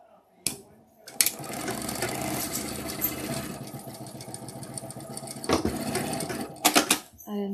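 A home sewing machine stitches in a steady, loud mechanical whir, starting after a brief pause and running on with a few clicks and bumps near the end; a voice talks briefly over it.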